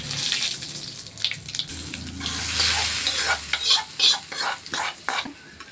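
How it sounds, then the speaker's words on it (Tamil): Urad dal, asafoetida and curry leaves sizzle in hot oil as a tempering for a shallot and tamarind chutney, a loud close crackling hiss with bursts of spluttering and stirring. "கொஞ்சோண்டு ஒரு சிட்டிக்கு பெருங்காயத்தூள் போட்டுக்கிட்டு கொஞ்சோண்டு கருவேப்பிலை போட்டு எடுத்து கொட்டிக்கலாம்"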